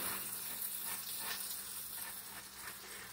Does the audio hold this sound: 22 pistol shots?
no